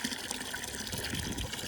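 Water sloshing and gushing steadily as items are dipped into Clorox bleach water, a continuous splashing wash with no voices.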